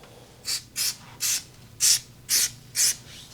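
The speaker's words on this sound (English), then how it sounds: "you can speed up that process just by spraying some activator underneath" Six short, sharp hissing bursts of activator sprayed from a can, evenly spaced about a third of a second apart, close and fairly loud against a quiet background.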